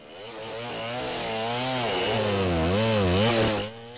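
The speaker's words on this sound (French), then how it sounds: "les tronçonneuses qui s'acharnent sur les forêts du bassin du Congo" A chainsaw cuts trees in a Congo Basin forest, its engine whining and rising in pitch as it labours, loud and close, then cutting off sharply near the end.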